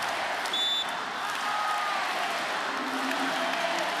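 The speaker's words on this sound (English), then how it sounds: "Listen to this crowd." A packed volleyball arena crowd roars steadily through a VNL 2024 quarter-final between Slovenia and Argentina, a sustained wash of cheering with a few shrill whistles and whoops rising above it.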